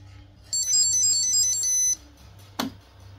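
An electric pressure cooker plays a short high, beeping start melody after its cook button is pressed, clear and close for about a second and a half, followed by a single sharp click.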